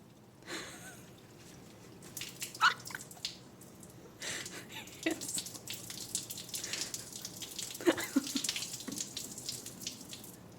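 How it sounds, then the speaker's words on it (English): Bottled water is poured into a Kool-Aid drink packet, giving intermittent splashing and trickling with a few louder gulps and drips, close and moderately quiet, with no talk. "Pour bottle of water into the packet."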